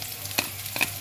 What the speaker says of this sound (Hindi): और अच्छी तरह से इसका मिक्स करके हम पका लेंगे। अच्छी तरह फ्राई करके